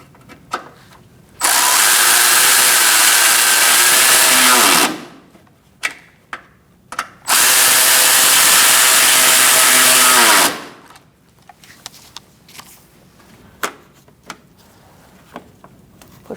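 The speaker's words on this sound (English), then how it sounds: "Now we're going to tighten up these two." A cordless power drill tightens fasteners on a 2016-2019 Chevrolet Cruze while the windshield washer reservoir is replaced, two loud sustained whirs of about three seconds each, followed by light clicks and handling noises.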